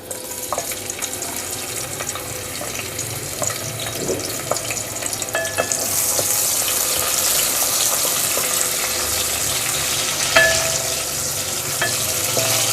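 Onion sizzles in about a quarter cup of oil in a pot, a steady close crackling hiss that swells louder partway through, with occasional stirring clicks and scrapes.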